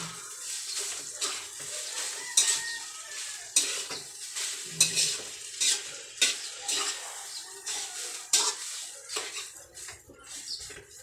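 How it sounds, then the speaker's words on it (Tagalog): Day-old rice being stirred and tossed in a pan for Filipino sinangag fried rice, with a steady soft sizzle and repeated scraping and clinking of a utensil against the pan, close and with no talk. "Halu-haluin muna natin."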